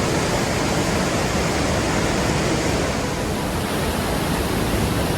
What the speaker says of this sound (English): This is Fairy Creek Falls